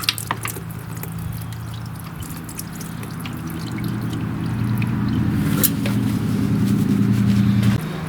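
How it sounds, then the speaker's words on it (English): A half-gas, half-oil mixture drains from a flooded car engine in a repair shop, a steady low trickle and gurgle of liquid that grows slightly louder and fuller over several seconds, with no talking. "there will be a lot more volume of liquid coming out of your engine when it's flooded like this"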